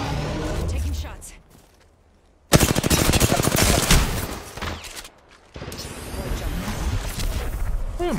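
Rapid automatic gunfire in a shooter video game, loud dense bursts that cut off abruptly and resume after a pause, with a voice talking over the shooting.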